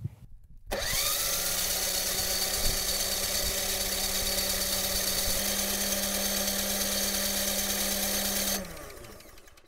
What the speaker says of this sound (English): Make sure you engage your fuel down here and just crank it over.